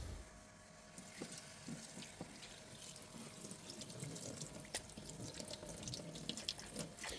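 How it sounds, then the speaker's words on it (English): Water runs steadily from a tap into a sink while rinsing a washing machine drain filter, a soft continuous hiss and splash with occasional drips, quiet and nearby. "The next step is to clean the filter, which I'm going to do at the tap in the sink."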